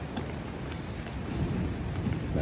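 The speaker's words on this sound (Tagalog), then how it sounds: "Naabutan kami ng ulan." Steady rain falls with low rumbling thunder during a camping trip in Casiguran, Aurora, Philippines, a dense continuous wash of drops building slightly louder toward the end, with no voices.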